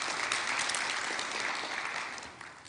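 A church congregation applauds during a service, a steady, full clapping from many hands that fades slightly toward the end, with no talking over it.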